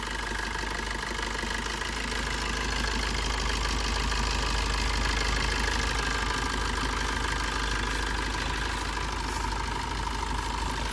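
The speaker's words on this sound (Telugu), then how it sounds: "ఇదైతే ఇంజన్ సౌండ్" A second-hand Maruti Suzuki Ritz car idling, heard up close with a steady, even engine hum and a faint rhythmic knock throughout, loud and constant with no voices.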